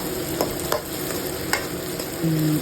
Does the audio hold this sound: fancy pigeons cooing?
no